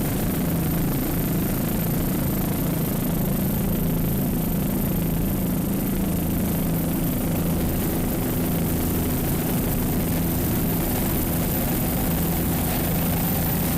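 A 30-foot AMT racing powerboat with twin 2.5 Mercury outboards roars steadily at speed off Deerfield Beach, a loud continuous engine drone with wind and water rush throughout, no talking.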